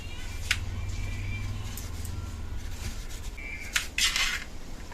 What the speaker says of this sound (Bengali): একটা পেঁয়াজ নিয়েছি, এটা একদম কুচি কুচি করে কেটে নেব।